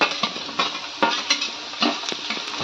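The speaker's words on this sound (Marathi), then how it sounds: "बटाटा चांगला बघा असा परतून घेतलाय तेलात" Potatoes frying in oil in a pan for sabudana khichdi while green chilies are added, a soft sizzle broken by repeated scraping stirs of a utensil against the pan, close and without talk.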